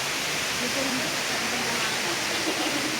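The Kilangin waterfall in Liliw, Laguna gives off a loud, continuous broadband rush of falling water. The roar stays steady and close, and it nearly drowns out a few faint voices underneath.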